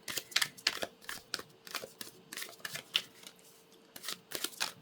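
A deck of tarot cards is shuffled by hand during a reading, giving rapid, soft bursts of riffling and flicking that come in irregular clusters, close up and fairly quiet, with no talking.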